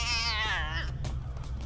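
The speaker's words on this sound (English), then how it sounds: "Cat!" A cat lets out a loud, drawn-out meow that bends downward in pitch over a steady low rumble, followed by softer background noise.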